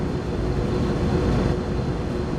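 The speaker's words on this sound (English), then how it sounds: "you'll notice the train begin to slow down due to the extra braking effort" A train in the Train Sim World 3 video game brakes and slows, with the automatic brake working along its length. It gives a steady, close, broadband rolling rumble that continues evenly throughout with no voices.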